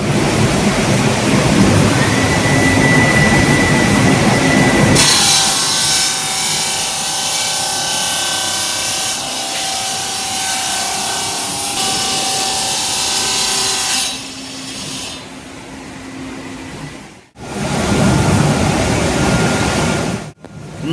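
A granite polishing machine runs inside a stone factory, a loud continuous industrial grinding roar that broadens and thickens midway, then cuts out briefly near the end before resuming.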